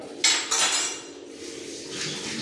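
Dishes and pots being washed in a home kitchen after cooking milky pilaf, with a few sharp clattering knocks of cookware close by followed by a softer rinsing hiss.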